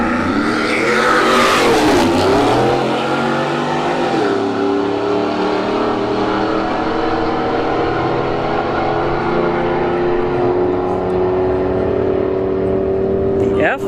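A Ford F-150 and a Ram T-Rex truck drag racing at a motorsports park, with loud engines revving hard, shifting, then holding a long rising drone as they pull away, while a commentator talks over them.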